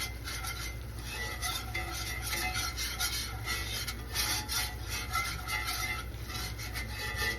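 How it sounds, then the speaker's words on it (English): Steady, continuous scraping and rubbing of a whisk stirring a flour mixture for gravy in a pan, close and fairly quiet, unbroken throughout with no talking. "Another key thing to making gravy is that you do not ever stop whisking."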